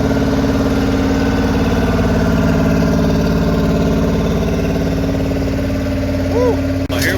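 A 1973 model 674G tractor engine runs steadily at idle, a loud, close, rumbling drone with an even mechanical beat that holds for the whole stretch.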